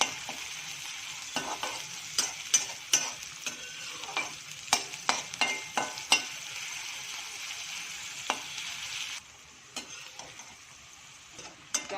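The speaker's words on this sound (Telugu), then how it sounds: "ఇప్పుడు ఆనియన్స్ వేసుకోవాలి. ఆనియన్స్ కూడా ఫ్రై అయ్యాలి." Onions frying in a pan, a steady bright sizzle punctuated by sharp spatula taps and scrapes at an uneven pace, which softens to a quieter hiss near the end.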